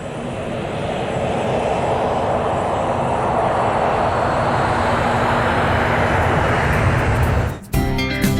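Steady, loud jet engine roar inside the business class cabin of an Emirates flight bound for Rome, a broadband drone with a faint tonal hum that cuts out with a brief break near the end.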